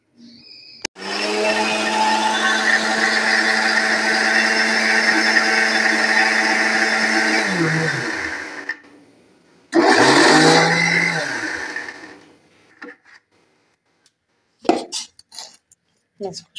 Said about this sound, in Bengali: তো এটা আমি মেশিনের সাহায্যে পেস্ট করে নেব।